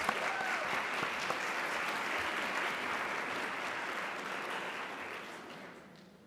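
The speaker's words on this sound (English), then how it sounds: "a round of applause" Audience at a mayoral debate applauding, an even, continuous wash of clapping from many hands that fades out at the end, fairly quiet in level.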